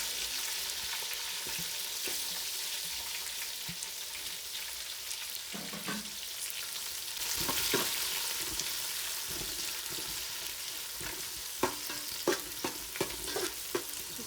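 Onions browning in a pan with crushed unpeeled garlic, a steady close sizzle and frying hiss running throughout, with occasional stirring clinks and scrapes toward the end.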